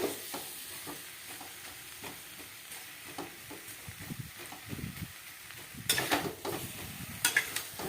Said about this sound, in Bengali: কষাচ্ছি, ভালো করে কষানো হয়ে গেলে তারপর জল দেবো